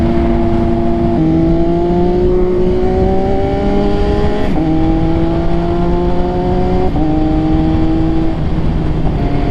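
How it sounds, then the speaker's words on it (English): An MV Agusta F3 motorcycle rides loudly at a local bike meet. Its engine drones with repeated rising revs through gear changes, close and dominant throughout. "I might have the loudest bike out here."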